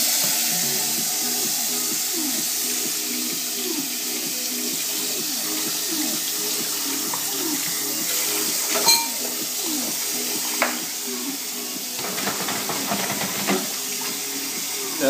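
A kitchen tap runs steadily into a sink during washing up, a continuous close hiss of flowing water with a few soft clinks and splashes from dishes near the end.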